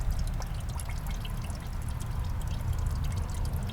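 Fluids, mostly water, drain from an old loader that sat unused outdoors, a steady pouring and dripping trickle with low rumbling background noise throughout.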